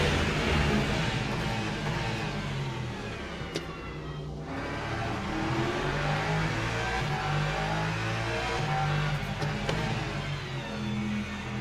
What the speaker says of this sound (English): I have got hypercars coming through now